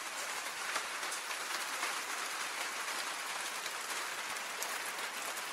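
Steady rain falls outside a garage, a dense, even hiss of drops on surfaces that continues unbroken at moderate distance with no voices.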